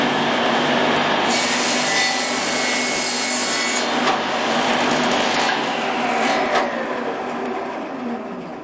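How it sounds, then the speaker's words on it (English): A Shopsmith saw cutting a mitre in timber produces a loud, steady whirring and rasping blade noise that runs continuously, with slight shifts in pitch as the cut progresses and eases near the end. "we start the machine and do the cut"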